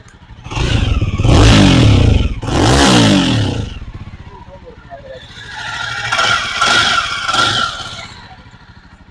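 A 350cc motorcycle, a Jawa Perak 350 or Royal Enfield Hunter 350, idles with the microphone right by its exhaust, a close, steady thumping putter heard after someone talks over the opening.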